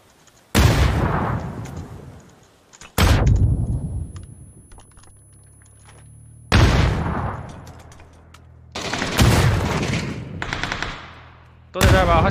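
Loud bursts of automatic gunfire in a shooter video game, several separate volleys with rapid cracks, each ringing off into a fading tail, with clicky keyboard-like taps between them.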